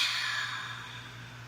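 A single long exhale during a breathing exercise, a soft steady airy breath that fades gradually over a second and a half, close and quiet with no talking.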